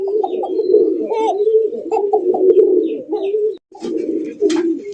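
A yellow Indian Bombay pigeon coos loudly and close by in repeated throaty rolling phrases, with a brief pause near the end before the calls resume.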